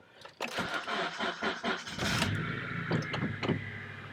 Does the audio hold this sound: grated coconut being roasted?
no